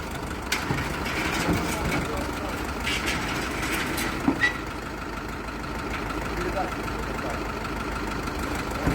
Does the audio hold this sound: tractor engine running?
yes